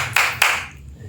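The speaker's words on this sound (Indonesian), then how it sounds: "Tepuk tangan." Two sharp hand claps, close and distinct, land a quarter second apart, followed by a quiet tail.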